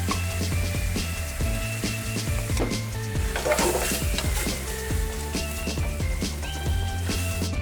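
Milk and cheese stirred into a cheese fondue in a pan, with a steady loud sizzle and scraping stir sounds and occasional utensil clinks against the pan.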